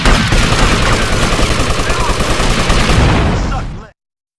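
Rapid automatic gunfire in Grand Theft Auto: Vice City Stories, a loud, continuous stream of shots for several seconds that cuts off abruptly into silence.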